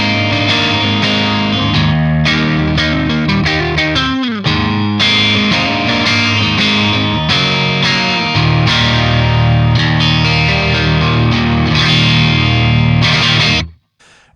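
Electric guitar with Super Twang bridge and neck pickups played with heavy distortion, chords and riffs ringing continuously and loudly, ending with an abrupt stop.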